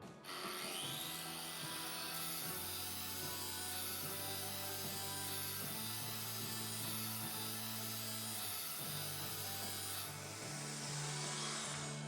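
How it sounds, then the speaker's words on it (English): An angle grinder in Farming Simulator 22 cuts a hole in the side of a barrel, a sustained, close, whining grind with shifting pitch as the cut progresses, heard alone without talk. "So I'm going to use my angle grinder from over on the shelf."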